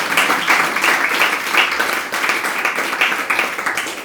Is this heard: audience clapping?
yes